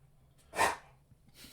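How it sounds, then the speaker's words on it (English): A pet dog in the room gives a single short, breathy bark or huff, close and moderately loud, surrounded by quiet room tone. "That's our dog. Our dogs are recording with us."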